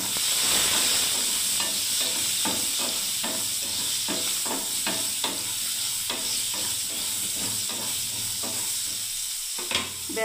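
Pointed gourd pieces fry in oil with turmeric and salt in a home kitchen, a steady close sizzle broken by a regular series of stirring scrapes and clatters.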